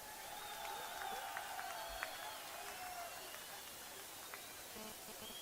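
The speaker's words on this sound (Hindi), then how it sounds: "तालियों के साथ" A crowd at a public meeting in Srinagar, Jammu and Kashmir, gives a faint, steady wash of applause that sounds distant and sustained, with a few sharper claps standing out.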